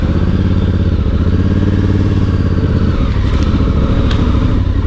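A Voge DS625X motorcycle labours through a rut on a Devon green lane trail, its engine a loud, continuous close-up drone with rough clattering and uneven throttle pulses throughout.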